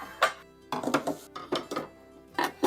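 Metal pot lids are handled and knocked together in a kitchen, with several sharp clinks and clatters coming close and fairly clear, spaced out with short pauses and no talk.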